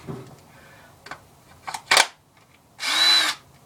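A cordless drill whirs in short bursts against glass for a homemade hookah, a couple of brief revs followed by one longer, louder spin, close and alone.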